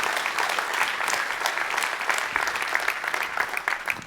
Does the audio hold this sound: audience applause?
yes